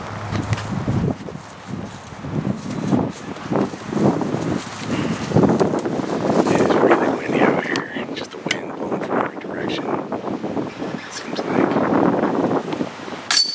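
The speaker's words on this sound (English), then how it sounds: "I just can't overstate how windy it is" Strong gusting wind buffets the microphone with loud, rumbling noise throughout, and people talk intermittently underneath on a golf course.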